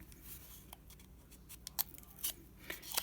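Scissors snip through material while a DIY brayer is being made, a few short crisp cuts scattered over a quiet background, close to the listener.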